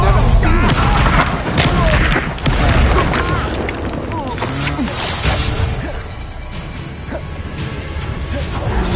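Loud, crashing spell explosions from Expulso in the Hogwarts Legacy video game, with booms and debris bursts over busy combat sounds, and a voice shouting over the action.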